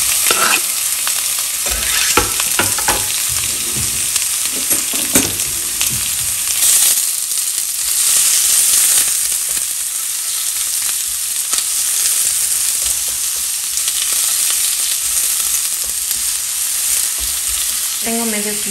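Sliced onion hits a splash of hot oil and fries with a loud, dense crackling sizzle that runs on steadily, punctuated by occasional stirring knocks, close by with no talking.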